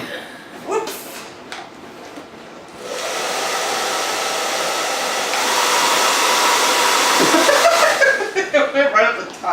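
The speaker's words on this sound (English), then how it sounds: "Your blow dryer sucks." A blow dryer whirs steadily and loudly for several seconds, with brief voices and light laughter before and as it cuts off.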